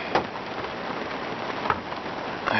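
Rain falling steadily on an off-grid solar camper on a cold dark day, a soft continuous patter with a few sharper drips, fairly faint and without voices.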